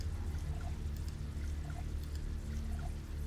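Water pours and trickles steadily as a container is filled in the survival video game Neo Scavenger, a soft, continuous splashing at low volume with no talk.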